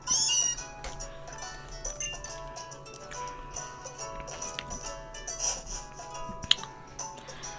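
Meowth meows in the Pokémon Ultra Moon video game, a few short cat-like calls over a soft game music bed with light tones and chimes, moderately quiet with no talk over them.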